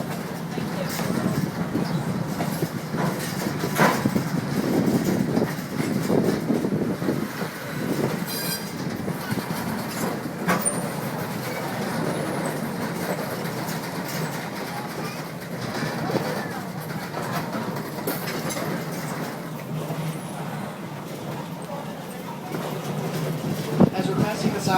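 A museum train rolls along rails at the National Railroad Museum, a continuous low rumble with occasional wheel clicks and brief squeals, while a guide talks over the ride throughout.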